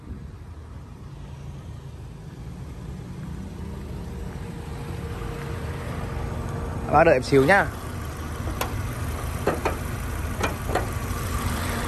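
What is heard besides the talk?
Kia Morning 2011 car engine running at idle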